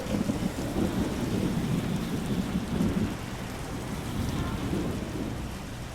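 Heavy, steady rain pours down while low thunder rumbles continuously beneath it, loud and close with no voices.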